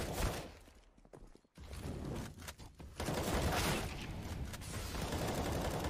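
Bursts of rapid gunfire in a Counter-Strike match between MIBR and Sharks, loud and dense with a brief quiet gap before the shooting resumes steadily.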